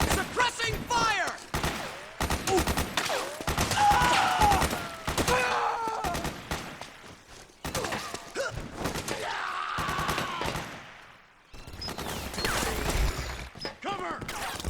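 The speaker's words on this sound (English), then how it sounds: "Suppressing fire!" Suppressing gunfire in the game Metal Gear Solid 4: Guns of the Patriots, with repeated loud bursts and volleys mixed among shouted voices, thuds and battlefield clatter, with brief pauses between the barrages.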